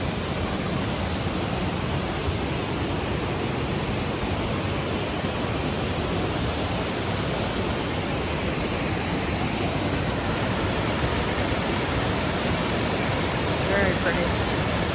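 Whitewater River rushing loudly beneath a bridge on a foothills hiking trail, a dense, unbroken roar of churning water close by that holds steady throughout.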